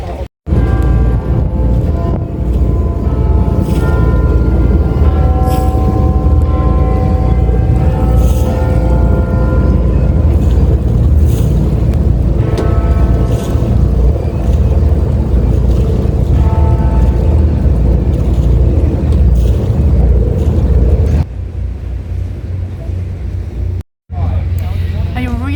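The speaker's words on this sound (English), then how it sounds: "Enjoy it going by boat." A riverboat on the Thames in London chugs along with a steady engine drone and wind buffeting the microphone, while people talk over the rumble throughout.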